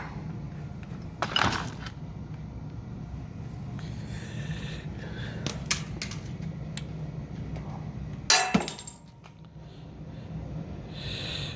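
Metallic clinks and clanks from bolts being worked loose on the supercharger blower of a wrecked LSA engine, a few sharp close taps and jangles over a quiet background.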